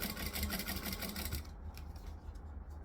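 A sewing machine top stitches fabric with a rapid, even mechanical whir for about a second and a half, then drops to softer handling noise.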